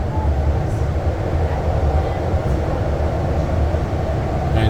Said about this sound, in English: this is a nice part of the REM ride because there's so many curves here